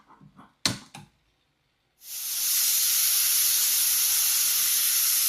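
Steady, loud hiss of steam from a pressure cooker cooking greens with drumstick pods, rising suddenly after a few brief clatters and continuing unbroken.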